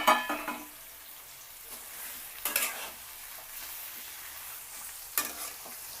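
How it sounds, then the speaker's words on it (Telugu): Marinated chicken fries in oil in a pan, cooked village style, with soft sizzling and three sharp bursts of stirring and scraping against the pan. "ముందుగా మనం మ్యారినేట్ చేసి పెట్టుకున్నాం కదా చికెన్ కూడా వేసేయాలి"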